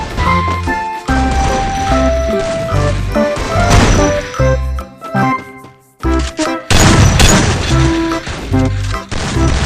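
Free Fire gunfire cracks out in repeated loud bursts and impacts over game music, with a brief silent gap midway before the shooting resumes.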